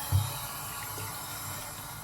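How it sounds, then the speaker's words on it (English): Water splashes onto a face at a bathroom sink before a barber-style wet shave. A quick splash comes first, then a steady stream of running tap water. "Alright, just give the face a quick splash."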